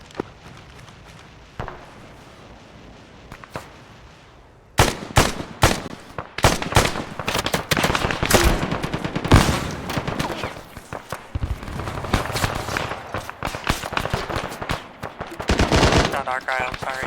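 Heavy machine gun and rifle fire in a war video game, sudden loud bursts and rapid volleys breaking in after a quieter stretch and continuing densely, with a few faint footsteps mixed in.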